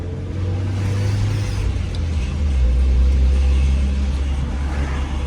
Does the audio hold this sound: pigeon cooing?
no